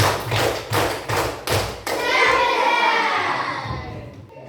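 Four loud, evenly spaced hand claps, followed by a burst of children cheering and clapping together.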